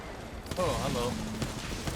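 Reactive R99 submachine gun fired from the hip in Apex Legends, sounding as a dense, rapid burst of gunfire under a voice, loud and continuous through most of the clip.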